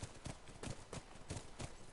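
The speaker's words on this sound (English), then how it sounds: "That's our horse." Horse hooves in The Last of Us clip-clop at an even walking rhythm near a ranch, soft and steady with regular paired thuds and no voices.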